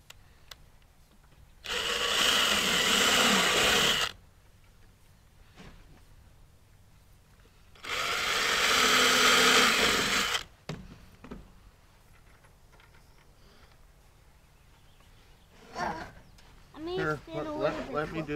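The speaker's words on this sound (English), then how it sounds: "Let me drill it." A power drill drives screws into a wooden birdhouse in two loud, whirring bursts of a few seconds each, with quieter handling noises and people talking between them.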